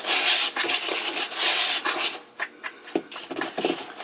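Sticky dough of flour, salt and a little sugar worked by hand in a bowl, close rubbing and squelching with soft scrapes that come in bursts and then thin into brief pats and slaps.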